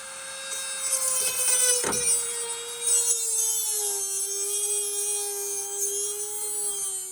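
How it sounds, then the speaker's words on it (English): A die grinder whines at a steady high pitch while cutting into a stripped self-tapping screw during bed removal on a 2005–2012 Nissan Frontier, with a burst of gritty grinding contact early on, heard close up and alone. "So we're gonna get out a die grinder and we're gonna, deal with that."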